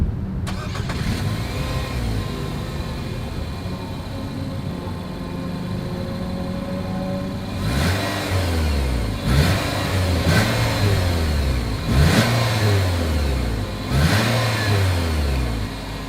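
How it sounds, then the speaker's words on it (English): A 2020 Nissan Rogue Sport with a single exhaust outlet idles with a steady drone, then revs sharply five times in a row in the second half, each rise and fall loud and close. "As always, here is that exhaust clip."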